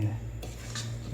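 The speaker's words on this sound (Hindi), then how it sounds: "चम्मच से हिलाते रहना है।" Spoon stirring sugar into sweet zarda rice in a pot, a steady scraping and clinking of metal against cookware throughout, close and moderately loud with no talk over it.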